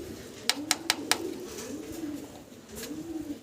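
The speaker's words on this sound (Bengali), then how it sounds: "ভিডিও স্ক্রিনে আপনারা চমৎকার আরও একটা জোড়া দেখতে পারতেছেন, মডার্না কবুতর" Modena pigeons coo in low, rolling phrases repeated several times at close range, with a few sharp clicks or taps early on and soft background room noise.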